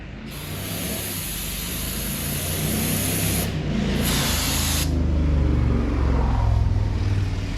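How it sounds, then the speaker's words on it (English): Brake cleaner hisses out of an aerosol can in two sharp, loud bursts while cleaning parts on a 1980 Ford Courier, with a low engine rumble passing in the background. "So we're going to hit it with this with some brake clean."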